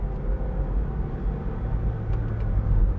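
Steady low engine rumble of a 2004 Smart fortwo City Passion just after a gear change, a continuous droning hum from inside the small car with slight rise toward the end.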